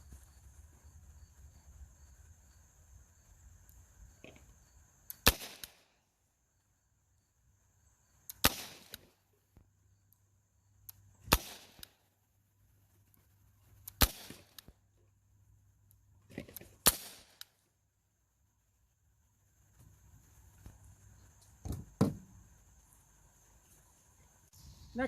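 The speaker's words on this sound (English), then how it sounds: "I'm actually going to fire 2 5-shot groups, one at 10 yards, one at 15 yards." A Daisy Powerline 44 air pistol with a 4-inch barrel fires Gamma match pellets outdoors on a warm day. Six sharp, snappy shots come several seconds apart, close and clear, over a steady chirp of crickets.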